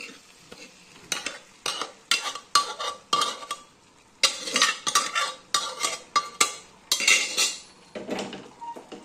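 Boiled dal is stirred with spices in a pan for dal tarka. A spoon scrapes and knocks against the metal in a steady, rhythmic run of close, fairly loud strokes, with brief pauses between them and no talking.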